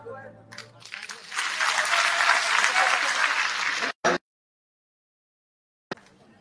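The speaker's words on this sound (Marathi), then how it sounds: "पुन्हा एकदा सर्वांनी टाळ्या वाजवून साहेबांचं कौतुक करावं" Loud, steady applause from a crowd at a felicitation ceremony in Nanded for Maharashtra minister Sanjay Shirsat, held by the Ambedkarite community. It lasts about three seconds, then stops abruptly, and a few brief noises follow.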